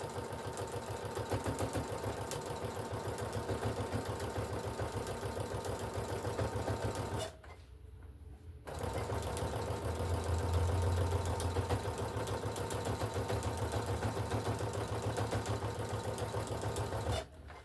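A sewing machine back stitching runs in a steady, fast mechanical whir for most of the stretch, briefly stopping once before resuming at a similar pace.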